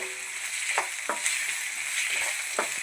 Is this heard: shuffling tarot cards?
no